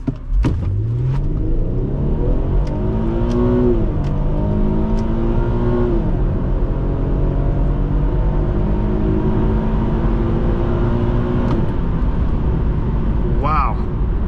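A 2010 Infiniti FX35 AWD accelerates hard on a 1/8 mile run, its engine note climbing steadily through several upshifts, loud and continuous from the cabin, with a brief voice near the end.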